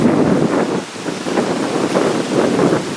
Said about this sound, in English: the wind is blowing up now